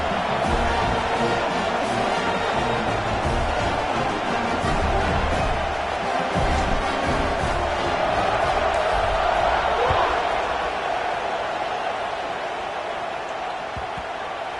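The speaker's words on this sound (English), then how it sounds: "this crowd is feeling themselves after that last drive" A stadium crowd in a football video game roars loudly and steadily after a scoring drive, a dense wall of cheering noise that holds for the whole stretch, with a commentator's voice over it.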